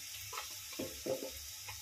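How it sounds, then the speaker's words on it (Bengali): Turmeric, chili, coriander and cumin powders with salt roast in oil in a pan after garlic-ginger paste, a faint steady sizzle broken by a few soft stirring scrapes. "এখন মশলাটা ভালো করে একটু ভুনিয়ে নিচ্ছি।"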